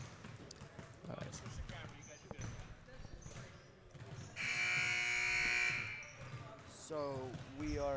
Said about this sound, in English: the buzzer sounds about to start the second half